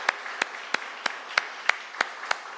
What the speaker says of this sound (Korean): 우리 축복의 박수로.